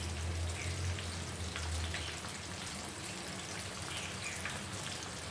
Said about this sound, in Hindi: इसी तरह से सारे चिकन के पीसेस को मैदा लगा के फ्राई करूँगी।